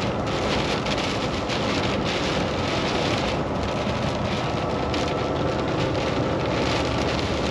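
Heavy rain pounds steadily on a truck driving on I-29 North, a dense, loud, unbroken roar of drops with no talk over it.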